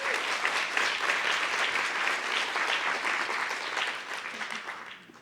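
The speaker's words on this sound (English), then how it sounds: "Please give a round of applause for Kaisha." Steady applause from a crowd at the Arts Equity Summit, many hands clapping continuously and evenly for several seconds before tapering slightly at the end.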